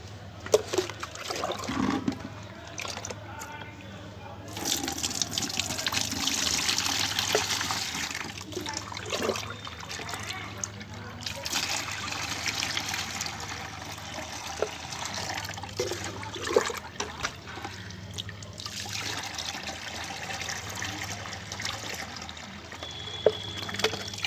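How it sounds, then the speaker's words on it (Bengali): Liquid from a tea leaf and mustard cake mixture runs through a sieve in an uneven trickle and splash that lasts throughout, with intermittent clinks and handling noises and no speech. "একটা ছাঁকনির সাহায্যে আমরা এটা সুন্দর করে আস্তে আস্তে ছেঁকে নেব।"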